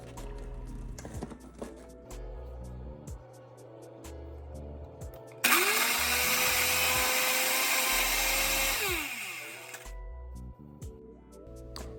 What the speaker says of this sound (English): I'm going to put it into my blender. And then I'm going to go ahead and press the ice crusher setting.